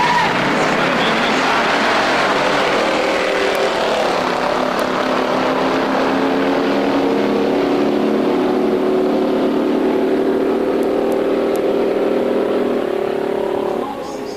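Two drag race cars, a 1970 Dodge Charger and a 1972 LT1, roar at a 2003 F.A.S.T. race at Norwalk, a loud continuous engine drone with rising tones as they run, steady and close throughout.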